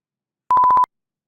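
A short, clean electronic beep tone, pulsed rapidly about six times in under half a second, then silence.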